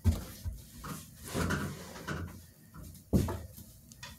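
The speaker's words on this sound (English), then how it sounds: "And Alyssa, close the door" A door in a house bumps and thuds shut with a sharp knock near the end, following softer rustles and shuffling movement, close by with no talking.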